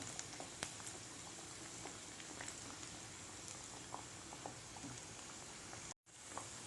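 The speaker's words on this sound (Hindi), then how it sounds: "देखिए वड़े हमारे अच्छे से फ्राई हो रहे हैं" Chicken vadas deep-fry in hot oil, a faint, even bubbling patter with scattered tiny pops that runs steadily throughout, with no voices.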